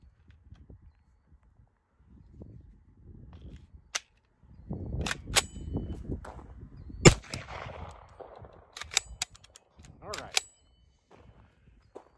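A re-sprung Cobray fires a run of 25 rounds, sharp gunshots cracking out one after another at uneven intervals, with several close, loud reports and quieter handling noise between them.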